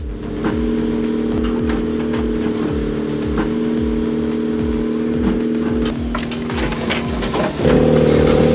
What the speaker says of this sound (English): This firewood processor not only slices but also splits wood in a single step